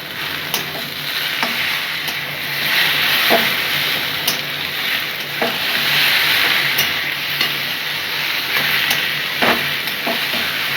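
Radish curry with fried potatoes being stirred in a pan, a steady sizzling hiss broken by repeated scraping clinks of a spoon against the pan, close and loud with no talking.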